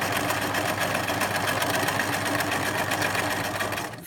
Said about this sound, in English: lift your presser foot, turn it, and stitch all the way up to the top